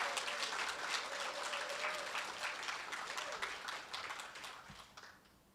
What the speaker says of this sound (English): I heard you give yourselves a little round of applause, but I want it to be a little more resounding